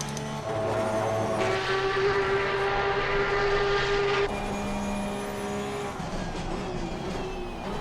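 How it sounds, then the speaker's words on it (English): A Porsche 992 Cup race car in Assetto Corsa Competizione qualifying at Kyalami, its loud engine droning steadily and stepping abruptly through gear changes at high revs, close and continuous. "This car is loud."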